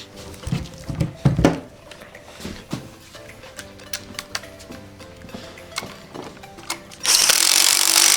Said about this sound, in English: I will grab this with our 10 mil and I'll just tighten those down.